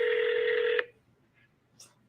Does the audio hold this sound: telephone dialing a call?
yes